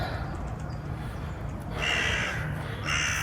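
Crow cawing: loud, harsh calls close by, two drawn-out caws rising over a steady outdoor background.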